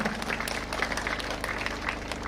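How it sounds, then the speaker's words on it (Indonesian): Applause rises from an audience for schoolchildren at the opening of a student arts and literature festival in Kupang, a steady clatter of many hands over a low background hum. "sekali lagi tepuk tangan untuk anak-anak kita"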